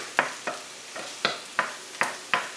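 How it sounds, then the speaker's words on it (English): Purple onions frying in a pan, stirred in seven evenly spaced scraping strokes with a soft sizzle beneath, close and fairly quiet. "we have purple onions that we will fry first a little bit"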